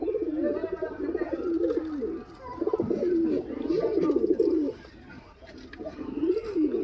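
Shah green-headed crested pigeons at a market in Beldanga coo repeatedly in soft, rolling phrases, close and steady, with brief pauses between bursts.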